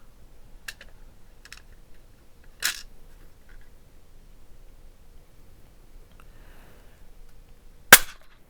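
A reloading press seats a .30-30 Hornady 150-grain round-nose bullet. Sparse, sharp metallic clicks and clacks sound close against quiet, with two louder snaps, one early and one at the end, and no talking.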